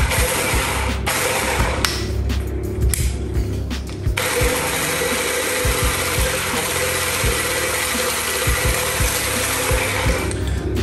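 Eggs with a pinch of salt are whisked in a bowl, producing a continuous whirring, rattling mechanical churn that holds steady from start to finish.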